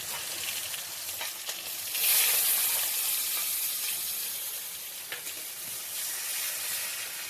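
Onion frying in a little mustard oil for a Bengali katla fish curry, a steady close sizzle that swells louder around two seconds in and then settles into a continuous hiss with faint stirring, no talking.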